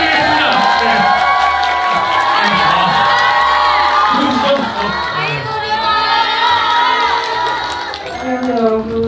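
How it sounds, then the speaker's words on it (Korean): A large crowd at a fan meeting claps, cheers and shouts continuously, loud and close, with excited voices, including children's, rising over steady applause throughout. "뜨거운 박수 부탁드리겠습니다."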